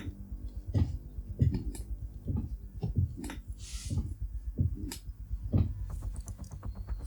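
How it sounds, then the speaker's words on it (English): Gaming chair on its rocking setting giving off a regular series of soft clicks and knocks, roughly one every half second to second, close and moderately loud, with faint background noise. "If I put the rocking feature on the easiest setting, because I like to rock in the chair, so if I do that, you get this weird clicking sound"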